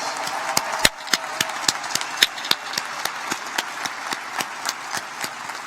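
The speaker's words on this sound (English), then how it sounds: "Let's give a round of applause for our 2020 Jones Scholars." A modest audience at a Rice Business investiture ceremony applauds the 2020 Jones Scholars, a thin, even patter of separate claps going on for several seconds in a quiet room.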